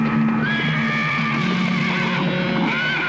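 A horse rears and lets out a loud, drawn-out whinny with wavering pitch, heard close and alone against steady background noise with faint hoof movement.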